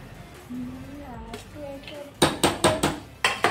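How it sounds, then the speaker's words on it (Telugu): Mushroom biryani scooped into a serving bowl brings a run of sharp metal-on-dish clinks and scrapes, about six quick knocks in the final second and a half, after quieter kitchen background with a brief voice. "ఇప్పుడు దీన్ని మనం కొంచెం సర్వింగ్ బౌల్లో తీసుకొని రైతాతో సర్వ్ చేసుకుందాం."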